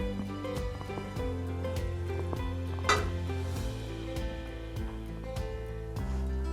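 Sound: bread pieces frying in butter in pan

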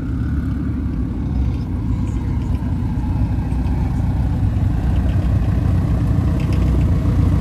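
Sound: car engine turbo whistle

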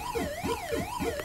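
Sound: siren sound from Atari VCS video game

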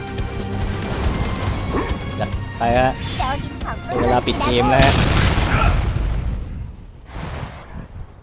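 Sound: explosion from a bomb in the video game Counter Side

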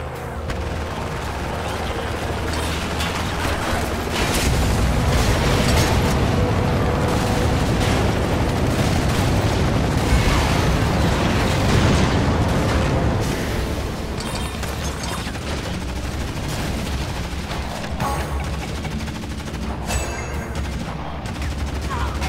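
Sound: gunfire and explosions in video game Renegade Ops

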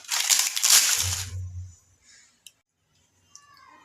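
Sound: crushing roasted urad dal papad into fine crumbs

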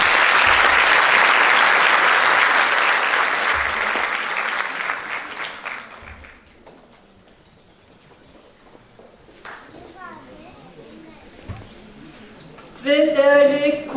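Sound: audience applause welcoming musicians to stage

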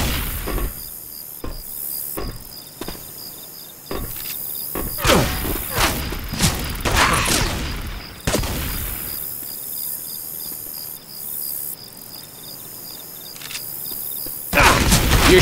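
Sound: gunfire, from video game Left 4 Dead 2

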